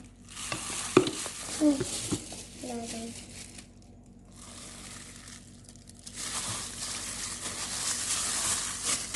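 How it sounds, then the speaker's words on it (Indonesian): Corn baby-food formula mixture being stirred in a bowl, with a few scraping and clinking spoon strokes early on, then steady soft swishing and stirring noise up close, without talk. "Kita aduk hingga merata"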